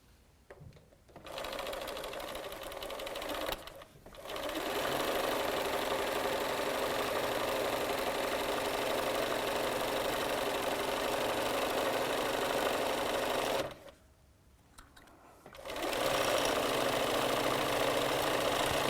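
A sewing machine stitches a quilt square for a charity quilt in long steady runs, stopping briefly near the start and again toward the end before starting up once more. The drone is loud and continuous, with no talking.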